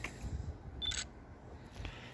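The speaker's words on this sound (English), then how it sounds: "then just hit your shutter button" A single soft mechanical click from the shutter button of a Nikon P1000 camera, faint and close against a quiet background, with no voices.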